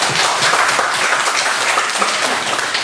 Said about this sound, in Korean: 우리 하나님 앞에 감사의 박수를 한번 할까요?